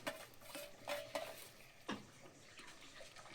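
A spoon stirs a boiling curry with drumstick leaves in a pot, giving soft scraping swishes and a few light metallic clinks against the pot, fairly close with no voices.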